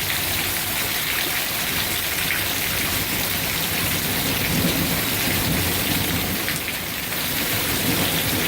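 A thunderstorm in Macomb with heavy rain pouring steadily onto surfaces close by, a continuous loud hiss throughout, with low rolls of thunder rumbling beneath it and no voices.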